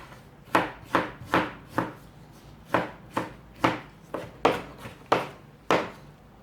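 A knife chops ginger, garlic and tomato on a board in about a dozen crisp, close thuds, spaced unevenly at roughly half-second intervals, with no talk.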